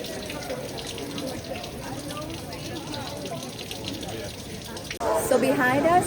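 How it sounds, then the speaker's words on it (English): Free drinkable public water fountain running outdoors in Dubrovnik, a steady splashing stream that grows louder and closer near the end, with people talking over it. "a drinkable water fountain that's completely free"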